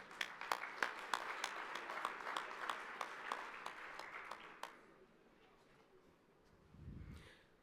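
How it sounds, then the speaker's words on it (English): A crowd at an AQHA horse show awards presentation applauds with scattered, rhythmic claps that fade out after a few seconds, followed by quiet room tone. "Big round of applause for all of them."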